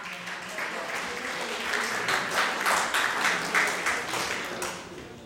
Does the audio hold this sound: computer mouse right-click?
no